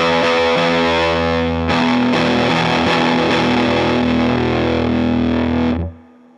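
Electric guitar through a Big Muff Wicker fuzz pedal with the tone switch off, a thick, saturated sustained chord rung out, restruck once, then cut off abruptly.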